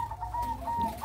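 Plump zebra doves in a breeding coop give soft, steady cooing that runs through the whole moment, with a faint thin whistle-like tone layered above it and no voices present.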